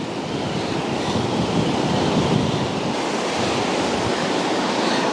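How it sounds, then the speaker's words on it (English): Strong wind buffets the microphone on the coast at Lancelin while ocean surf rolls in, a continuous loud rushing roar with no pauses and no voices. "She's still pretty windy."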